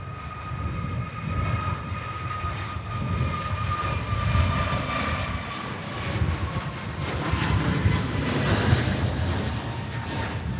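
An easyJet Airbus A321neo rolls for takeoff at Manchester Airport in stormy weather, a continuous broad jet roar that swells and eases slightly over several seconds, heard from a distance.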